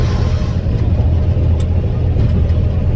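A big truck passes close by, its loud, low engine rumble holding steady and heavy for the whole stretch with no voices over it.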